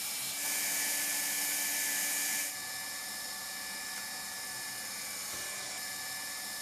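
A hot air hand welder heats a rubber skirting joint and thermal cord at 350 to 400 °C, giving a steady close blowing hiss that runs loud for a couple of seconds, then continues more quietly without pause.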